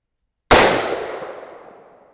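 A single loud .308 Winchester rifle shot firing a Sierra GameChanger 165-grain bullet, a sudden sharp blast out of silence that rolls off into a long echoing decay outdoors, no talk.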